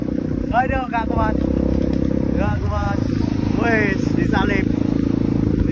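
Kawasaki KLX dirt bike engine running steadily in the background as a continuous low drone, with people talking over it throughout.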